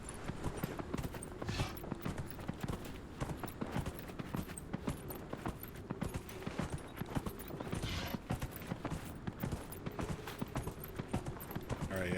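Elk mount hooves clatter in Dragon Age: Inquisition, a quick steady clip-clop of footfalls that runs continuously at moderate volume with no voice over it.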